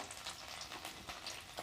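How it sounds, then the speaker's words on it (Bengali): Chopped garlic sizzles and fries in leftover oil from fried chicken while chilli chicken is cooked, a steady close crackle with brief stirring bursts. "আমার ভেজে রাখা চিকেনের তেলের ভেতরেই আমি সব এবার রসুন কুচি দেবো"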